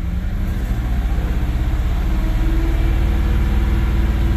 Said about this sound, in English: Give it some throttle, about 2500 or 3 grand.